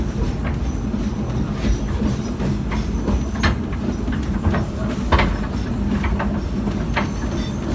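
An old park sightseeing train rumbling along the tracks with a steady clatter, occasional metallic squeals and clicks from the wheels, fairly close and continuous.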